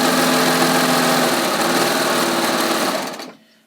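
A sewing machine stitching strips of knit fabric together, a loud, close, steady mechanical whirring run that stops abruptly near the end.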